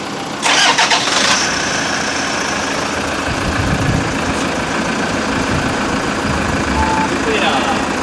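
A car engine in a garage cranks briefly, catches and settles into a steady, loud idle running continuously, with people talking nearby.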